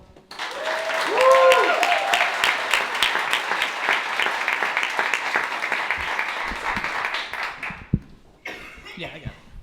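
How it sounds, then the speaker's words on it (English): An audience at a festival performance bursts into applause for Miguel Salazar, loud dense clapping that swells early, mixed with chuckles and a few whoops, then thins and fades out near the end. "Give your applause going for Miguel."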